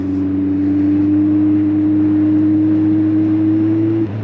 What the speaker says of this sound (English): The exhaust is good.